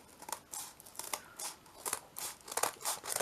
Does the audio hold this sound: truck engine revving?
no